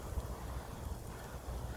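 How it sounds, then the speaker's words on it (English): Steady wind from a cold front buffets the microphone on a cool morning, a low rumbling gusty roar with occasional thumps, no voices present. "It's very cool and windy this morning."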